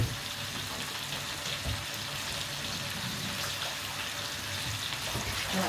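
Water is poured into a pot of chicken pieces cooking with cinnamon and spices, a steady low splashing and hissing wash that runs evenly throughout, fairly quiet and with no talking.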